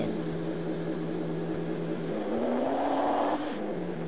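An off-roader car engine in the video game Mon Bazou drones steadily, then revs upward in pitch before dropping back, a smooth synthetic-sounding motor with no talk.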